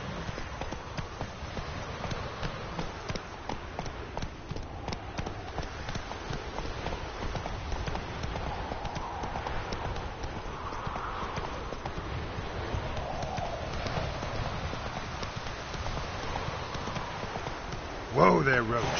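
Horse hooves of Roach clip-clopping steadily in The Witcher 3 game, a continuous trotting rhythm under a voice and ambient game sound throughout.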